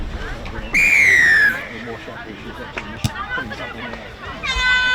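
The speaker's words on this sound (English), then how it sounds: "blowing a whistle" A referee's whistle starts a rugby match, one loud, clear blast of about a second over a babbling crowd and nearby talk, followed by thuds of play and a second shorter whistle near the end.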